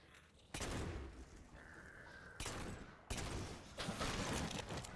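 Sniper gunfire in the video game Halo 4, several sharp, loud shots spaced a second or two apart, each with a short rumbling tail, over quiet in-game background.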